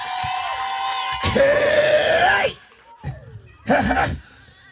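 A crowd at a gospel album launch erupts in loud shouting and cheering in two bursts, with a pause between, after a sustained tone fades out.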